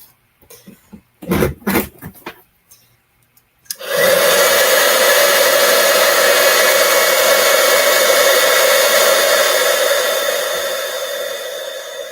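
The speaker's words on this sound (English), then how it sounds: "we're going to heat emboss this one before we do our next one." Heat embossing tool blowing hot air onto a card for Christmas cardmaking: a few soft handling taps and clicks, then the loud steady whir of the heat gun switching on and running continuously, easing slightly near the end.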